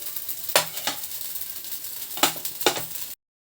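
Rice flour dosa (atlu) batter hits a hot pan, a soft sizzle broken by a few sharp scraping or clacking strokes from a spatula, then cut off abruptly; no talking.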